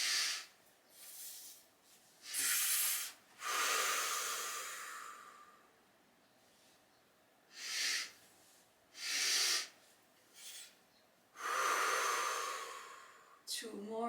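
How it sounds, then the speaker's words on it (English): Slow, deep breaths in and out during a hatha yoga class, breathy hissing exhalations and inhalations in a spaced rhythm, close and clear with quiet pauses between. "Feel how the belly and the rib cage is expanding as you inhale."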